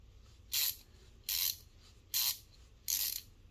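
The pivot screw of a Leatherman Wave multitool is being loosened in four short, evenly spaced bursts of gritty scraping, quiet and close, with near silence between them.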